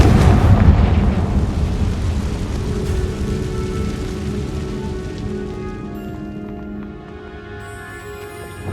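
A Confringo blasting spell goes off in Hogwarts Legacy with a loud, close, booming burst at the start. Its low rumble and crackling debris slowly fade over several seconds.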